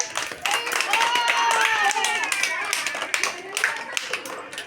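Young children in a classroom clapping for a classmate during a Malayalam letter game: a burst of quick, uneven hand claps from a small group, mixed with children's voices and singing-like calls, fairly close.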